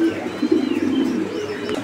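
A pair of pigeons at a farm coos closely, a low, throaty rolling coo that swells and lingers for a couple of seconds with little else around it.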